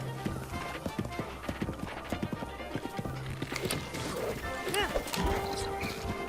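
A horse gallops in the video game Zelda Breath of the Wild, rhythmic hoofbeats clopping quickly in the foreground, followed by a neigh and other game sound effects.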